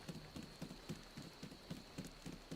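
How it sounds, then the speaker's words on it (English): Rain falls in the video game Disney Dreamlight Valley, a faint steady patter with a soft regular pulsing rhythm, quiet and without voices. "I just can't believe it's raining now."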